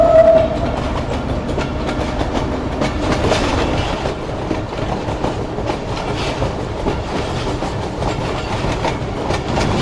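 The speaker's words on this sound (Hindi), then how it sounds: "मज़ेदार तरीके से ट्रेन हमारी उछलती कूदती मेन लाइन 3 पर दौड़ रही है" A train runs along the main line through heavy winter fog, with a steady loud rumble and rattling of the carriages from start to end and a faint high horn tone at the very beginning.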